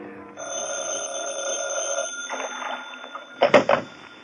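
Telephone bell ringing for a radio detective drama, a steady electric ring lasting several seconds at moderate volume, ending with a couple of sharper clicks as the receiver is picked up.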